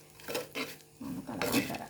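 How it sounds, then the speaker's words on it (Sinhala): A cooked homemade vegetable mixture is stirred in a pot with the stove switched off, giving two bursts of scraping utensil-on-pot sounds separated by a short pause, close and fairly clear. "මේක හොඳට කලවම් කරන්න ඕනේ"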